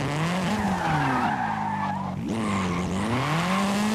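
Sustained, loud tire squeal from a drifting car in the racing game Forza Horizon 5, the screech bending in pitch as the car slides through a corner, with engine drone underneath.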